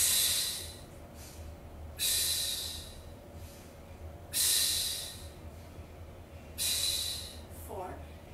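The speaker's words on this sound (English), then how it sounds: "inhale, exhale, inhale, exhale, making a circle" Deep, forceful breaths during an at-home Pilates workout, four loud airy exhales rising and fading at roughly two-second intervals over a low, quiet background.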